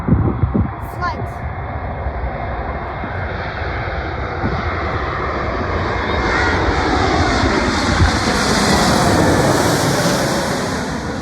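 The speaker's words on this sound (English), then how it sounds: "and we have a Delta A321-200. Specifically Delta Airways." A Delta Airlines Airbus A321-200 at JFK airport gives a loud, steady jet engine roar that builds slightly as it continues, heard from fairly close outdoors without talk.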